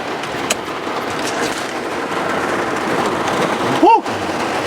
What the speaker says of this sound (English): Raining bad.